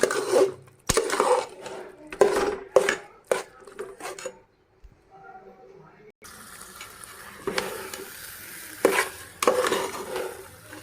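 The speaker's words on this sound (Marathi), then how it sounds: "सारखं मिक्स करत राहायचं ह्याला फिरवत राहायचं म्हणजे खाली चिटकत नाही करपत नाही" Puran, a sweet chana dal filling, being stirred in a pan in bursts of scraping and clanking, with a quiet pause before a hissing cooking background returns, up close.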